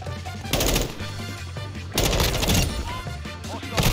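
Rapid automatic gunfire from Call of Duty Modern Warfare 2 multiplayer, loud, close bursts of shots with crashing impacts, layered over game music and effects.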